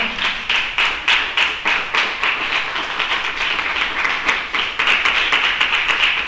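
Church congregation clapping together in a rhythmic, evenly spaced beat, loud and close, with no talk over it.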